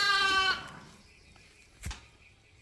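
A sheep in a lambing pen gives one loud, close bleat at the start, followed by quiet with a couple of soft thumps.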